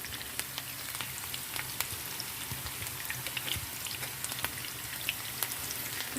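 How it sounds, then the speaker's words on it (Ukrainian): Onion for meatball soup fries in a pan with a steady, close sizzle, dotted with crisp pops and crackles throughout and no talking. "Кидаємо сюди цибульку."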